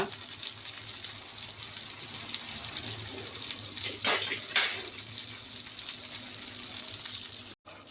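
Quail frying in a pan for a Sunday dum biryani meal gives a steady, moderate sizzle and hiss, with a couple of brief louder bursts partway through and no speech.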